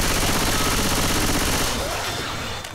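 Sustained rapid automatic gunfire from a weapon in the zombie shooter Left 4 Dead 2, loud and dense, tapering off near the end as the magazine runs dry.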